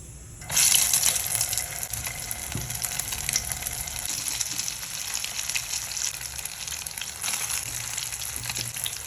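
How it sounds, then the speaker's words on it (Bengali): Batter-dipped eggplant slices, coated in egg, go one at a time into hot oil; a loud, steady hiss and crackle of frying begins abruptly and continues evenly throughout, with no voices. "আমি তেলটা গরম করে নিয়েছি এবার একটা একটা একটা করে বেগুন ভাজি আমি এভাবে ডুবিয়ে দিয়ে দেবো তেলে"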